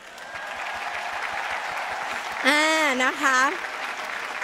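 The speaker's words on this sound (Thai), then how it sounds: "ปรบมือให้กับอัพไลน์นะคะ" Sustained audience applause fills a hall at an Amway diamond-level award ceremony, a continuous wash of clapping while someone speaks briefly over it near the end.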